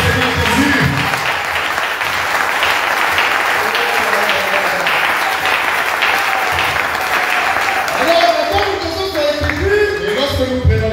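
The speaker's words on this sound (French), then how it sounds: "Acclamez d'abord le Seigneur Jésus." A church congregation applauds and cheers loudly and continuously for about eleven seconds, a dense wash of clapping with scattered voices calling out in acclamation of the Lord Jesus.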